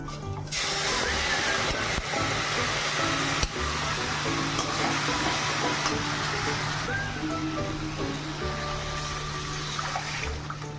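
Dried chillies, cumin and bay leaf sizzle loudly in hot oil as a tempering for dal, a continuous close hiss with spattering bursts and a few sharp knocks, easing slightly toward the end.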